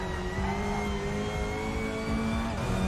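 A Cupra race car's engine revs hard and continuously in the RaceRoom racing sim, a loud sustained drone with steady, rising harmonics and no speech over it.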